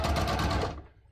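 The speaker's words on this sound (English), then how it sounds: "I'm literally just stitching" A sewing machine runs a rapid continuous stitch along a jeans pocket bag, loud and close, then stops and the motor whirs down within about a second.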